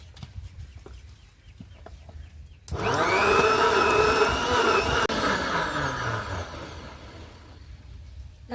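A kitchen blender jar grinds watermelon: quiet background for a few seconds, then the motor kicks in abruptly with a loud, steady whine that holds with a slight wavering pitch until the end.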